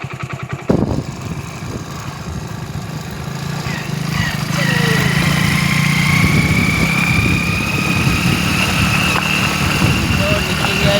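A motorcycle engine starts up and settles into a steady, loud running drone on a muddy village track, close by, with people talking over it.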